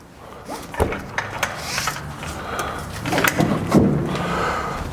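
Metal latch on an AX27 awning being tightened by hand, a run of close scraping, rubbing and clicking handling noises with a few sharp knocks, no talking.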